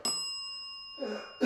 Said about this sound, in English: Are we taking turns with the bell?